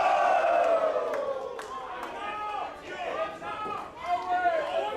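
An indoor wrestling crowd at an NCW show roars and chants in support of a popular wrestler, a loud, sustained wash of voices rising and falling, with excited speech over the top.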